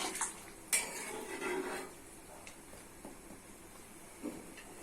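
Potatoes are stir-fried with spices in a pan for a dal dish. A spoon clinks and scrapes against the metal, with a few sharp knocks near the start and a soft hiss under the quieter strokes.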